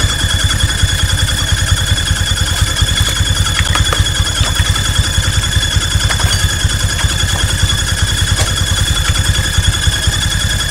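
Honda Vario 150 scooter idling with a fault that makes a squealing noise, a loud steady close engine pulse with a thin high-pitched whine running constantly above it.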